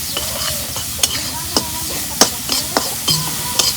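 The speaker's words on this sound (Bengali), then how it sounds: "তেল দিয়ে কষে নিতেছি" Spices fry in oil on a clay stove while being stirred, a continuous close sizzle broken by sharp scraping strokes and clanks of the spatula against the pan at an uneven rhythm.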